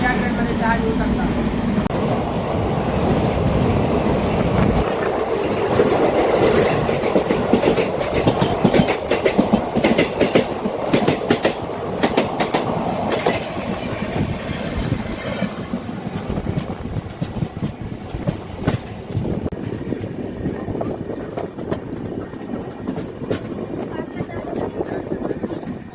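The 11301 Udyan Express runs along the track with a continuous rumbling clickety-clack and wind noise, recorded from on board, loud and steady throughout, with talking under it.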